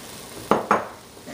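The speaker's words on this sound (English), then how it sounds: "Add a little bit of it, stir it." A spoon or whisk stirring almond milk into crawfish fritter batter in a bowl, giving two quick clinking scrapes close by over a quiet kitchen background.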